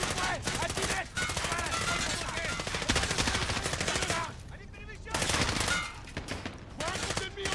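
Sustained automatic machine gun fire in the video game Modern Warfare (2019), rapid dense bursts running almost continuously, with brief pauses and faint voices in the mix.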